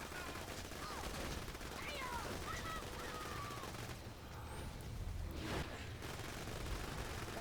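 Rapid, continuous gunfire from a Borderlands 2 gun fitted with the Sheriff's Badge, firing at a very high rate in dense bursts, with a short lull midway before the shooting resumes.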